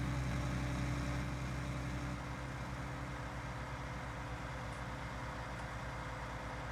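A John Deere 9620RX tractor engine in Farming Simulator 19 drones steadily at a low, heavy idle-like rumble, constant and close, with no talking.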